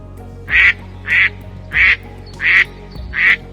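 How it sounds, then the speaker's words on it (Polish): Five loud nasal mallard duck quacks, evenly spaced about a second apart, close by over a low steady background hum. "to takie odgłosy wydaje kaczka krzyżówka"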